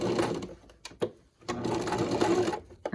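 A sewing machine stitches a washable fabric pandemic face mask with elastic, running in close, loud bursts with a couple of brief pauses between runs.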